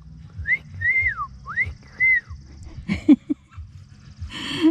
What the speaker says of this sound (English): I'm trying to whistle and it doesn't come out.